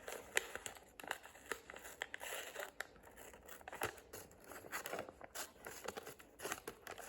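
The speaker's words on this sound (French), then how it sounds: "C'est à faire avec une paire de ciseaux." Scissors snip and paper crinkles as a heart shape is cut out by hand, a quiet, close series of irregular cuts and rustles with no talking.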